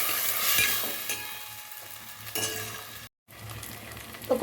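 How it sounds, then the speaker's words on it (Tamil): Ginger garlic paste and green chillies are sautéed in a pan for coconut milk rice, with a steady sizzle and scraping stirs of a spoon, one brief dropout and a clink near the end. "நல்லா வதக்கி விடலாம்."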